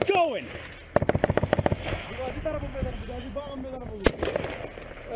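Rapid burst of gunfire, about eight sharp shots in quick succession, followed later by a single loud crack, with shouted voices and radio-like chatter throughout during a combat sound-effect scene.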